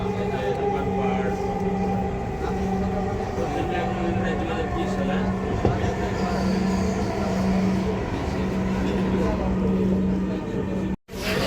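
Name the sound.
inside a moving Dhaka metro rail train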